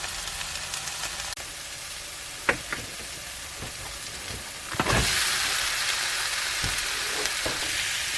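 Onions frying in a pan with Italian seasoning, a continuous close sizzle with occasional clinks and stirring knocks, growing louder and brighter midway.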